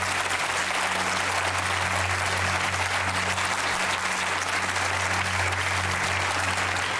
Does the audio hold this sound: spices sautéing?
no